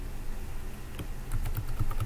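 A password is typed on a computer keyboard in quick, irregular keystrokes, close and fairly quiet, with a faster burst of clicks toward the end and no talking.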